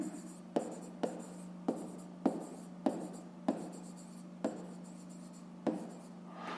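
A pen scratches on paper as a fifth-grade math exercise is written out by hand: short, distinct strokes recur about every half second at low, close, quiet level, with no voices.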